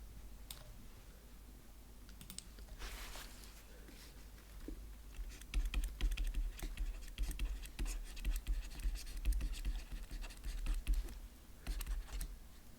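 Rapid clicking of keys on a computer keyboard as text is typed, with bursts of keystrokes coming close and fairly clear, growing busier toward the end, with no talk over it.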